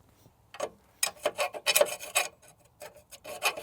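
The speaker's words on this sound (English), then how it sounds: "I'm filing all this down." A hand file rasps across the metal knockouts on the upper A-arm of a 1996 Chevrolet K2500 truck, in short irregular scraping strokes, close and fairly quiet, with brief pauses between passes.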